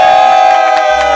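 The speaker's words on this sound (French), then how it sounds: "On s'applaudit" A studio audience cheers and claps for the Bang Bang team on a French rap talk show, a loud, dense crowd roar with no break.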